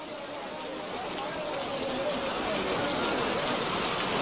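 Cartoon rain plays as a constant broadband patter that grows slightly louder over a few seconds, with no voices heard.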